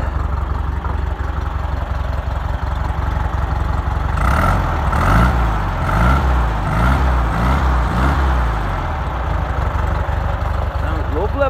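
A 1971 VW Beetle engine idles with a low steady rumble, then rises through several quick revs in a rhythmic series before settling back to idle, close by with voices talking over it.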